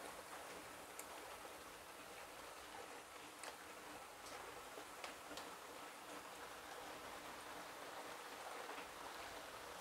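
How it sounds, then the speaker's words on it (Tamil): Steady rain falls outdoors in a continuous, even hiss with faint scattered drips and ticks. No one speaks over it. "உங்களுக்கு தெரியுதா மழை பெய்யுது, சத்தம் கேட்குதா பாருங்க"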